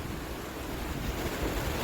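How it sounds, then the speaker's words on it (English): Strong wind buffets the microphone out on the open sea while kayaking near Egmont Key, a steady roaring rush mixed with surf, loud and unbroken. "Look how windy it is."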